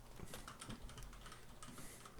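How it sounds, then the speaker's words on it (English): A cat walking across a computer keyboard, pressing keys in a quick, irregular clatter of soft taps that sounds close and fairly faint, with no voices. "my cat jumped on my keyboard"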